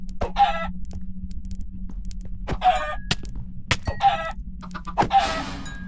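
Chicken clucks in the video game Minecraft, several short bursts spaced through the clip over a steady low in-game hum, fairly close and clear, with no talking.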